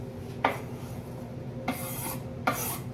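Onions cooking in olive oil in a pan, stirred with a utensil: a low steady sizzle broken by three short scraping strokes against the pan, spaced roughly a second apart.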